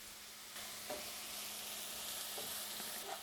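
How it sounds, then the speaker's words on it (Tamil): Onions frying in a pan with ginger garlic paste for chicken thokku, giving a steady, even sizzle with a few faint stirring scrapes at a soft, close level. "வெங்காயம் கொஞ்சம் வதங்கினதும் அதில் 1 டேபிள் ஸ்பூன் இஞ்சி பூண்டு விழுது போடுறோம்"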